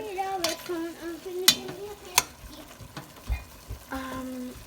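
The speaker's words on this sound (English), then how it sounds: "I'm just going to add this to my ground beef cooking here, and stir that in" Chopped onion is stirred into ground beef frying in a pan, with a soft sizzle under several sharp clicks and scrapes of the spoon against the pan.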